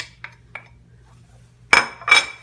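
Seafood pastilla filling of fish and lemon juice stirred in a pan: a few light scrapes, then two louder clinking strokes of a utensil against the metal, close and alone over a low hum.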